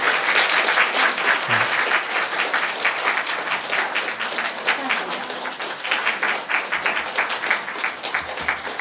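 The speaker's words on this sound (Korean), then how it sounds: "우리 크게 박수로 축하해 주시기 바랍니다." A church congregation claps warmly after a baptism during a Sunday service, dense sustained applause from many hands in a room that stays even throughout, with faint murmuring beneath.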